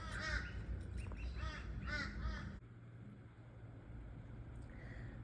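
Several crows caw in a garden, a run of harsh, repeated calls close by over steady outdoor noise that drops away to quiet rustle.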